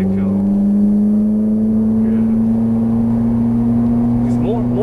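A Ferrari 458 Italia's engine pulls steadily on a race track at Exotics Racing in Los Angeles, a loud, continuous drone that rises slightly in pitch as it accelerates, with a person talking over it.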